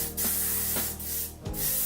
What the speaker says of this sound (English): Go back in with the Ouai Memory Mist and spray my hair.